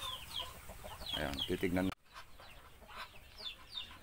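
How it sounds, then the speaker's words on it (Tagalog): Two broody hens shut in a coop cluck in short, repeated bursts close to the microphone, while someone speaks over them before a brief cut and the clucking carries on more softly. "May dalawa tayong inahin na nakakulong ngayon."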